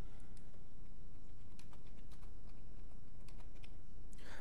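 Keys clatter on a computer keyboard as a mobile number is entered into a web form, with quiet irregular clicks in short bursts over steady low room hum.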